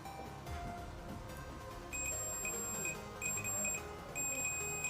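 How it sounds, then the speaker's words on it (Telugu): A multimeter's continuity beeper sounding in a run of high, thin electronic beeps, steady tones broken by short gaps, close and fairly quiet with no talking. "లోపల నుంచి ఒక బీప్ సౌండ్లా టైప్ వస్తుంది కదా."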